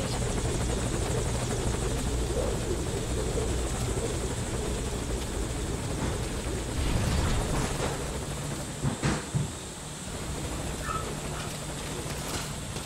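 A helicopter in Metal Gear Solid V: Ground Zeroes hovers at a landing zone, its rotor drone loud and steady throughout with the rhythmic chop close by, briefly swelling midway, and no voices.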